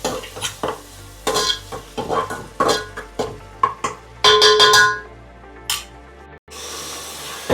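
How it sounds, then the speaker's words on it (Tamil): Ginger garlic paste is sautéed and stirred in a pan for chicken curry, with repeated scraping and clinking of a utensil against the metal over a soft sizzle, close and rhythmic. "இது நல்லா பச்சை வாசம் போகிற வரை நல்லா வதக்கி விட்டுடணும்."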